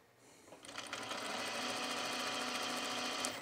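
A sewing machine starts up after a brief quiet moment and runs at a fast, even stitching rhythm while sewing along a fold with a shorter stitch length, close and continuous until the end.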